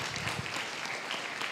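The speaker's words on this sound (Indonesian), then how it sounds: "kita beri tepuk tangan seikhlasnya" Audience applause at an Indonesian economics talk, a steady dense patter of many hands clapping throughout, moderately close and continuous with no speech.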